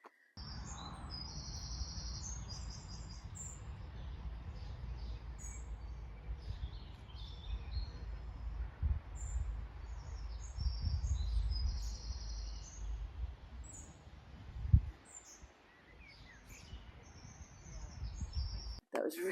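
Birds sing outdoors on a Saturday morning with bright, faint chirps and tweets scattered over a low rumble of distant background noise. There is a brief thump near the end.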